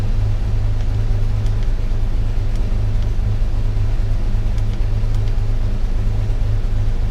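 A 1998 Ford Ranger 3.0 farm truck engine runs at a high idle, a steady, even droning rumble with a constant low hum and no change in pitch.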